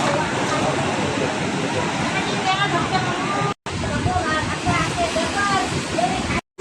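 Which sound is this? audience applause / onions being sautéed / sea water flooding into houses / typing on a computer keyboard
sea water flooding into houses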